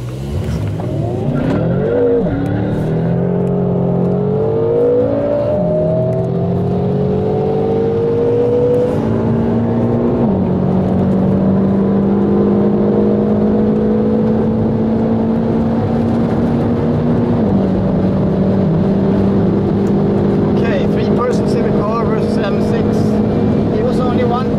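BMW M5 F10 and M6 Convertible accelerate hard from a standing start, engines roaring loud and close with rising revs, and gear changes drop the pitch before it climbs again, sustained throughout.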